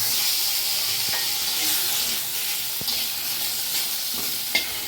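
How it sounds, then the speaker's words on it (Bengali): Boiled potatoes frying in a pan produce a loud, even sizzle and hiss, with a few clicks and scrapes from stirring. "আমি সিদ্ধ করে ফেলে দিয়ে সেই আলুটা একটু ভেজে নিচ্ছি।"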